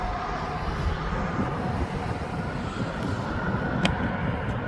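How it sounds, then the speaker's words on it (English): A Gulfstream G550 business jet taxiing or taking off at East Midlands Airport gives a steady, distant, faint engine roar and rush, with no voices. "That's a Gulfstream G550."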